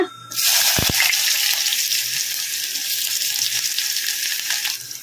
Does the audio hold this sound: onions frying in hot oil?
yes